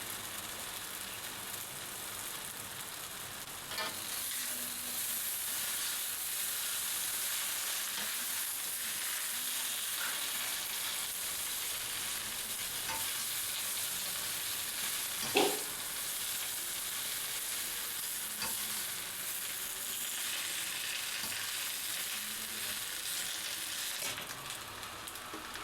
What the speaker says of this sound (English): I'm adding most of my vegetables first, and I just want the leaves to wilt down before I add some more